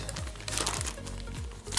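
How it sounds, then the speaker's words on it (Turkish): A thin paper puzzle crinkles and rustles as it is handled up close, in brisk irregular bursts of crackling with no talking. "ince kağıttan bir puzzle'ımız"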